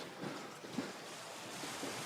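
Ocean waves wash onto a beach in Thailand at early morning, a soft, steady broadband surf rush with gentle swells, faint and distant, with no talk.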